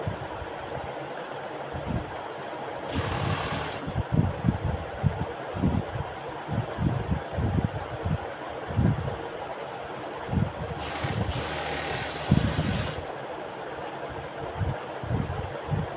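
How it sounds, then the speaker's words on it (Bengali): Sewing machine stitching a kameez seam slowly, giving a steady low mechanical run with irregular pulses and brief louder bursts, fairly close. "এই যে আমি আস্তে আস্তে সেলাই করতেছি"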